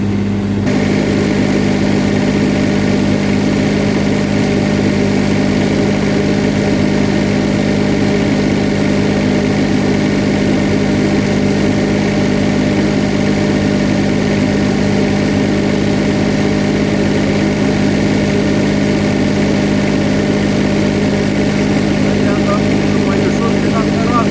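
A GAB-4 semi-automatic diesel generator runs at a steady idle, a loud, close, unbroken drone with a constant low hum that holds level throughout.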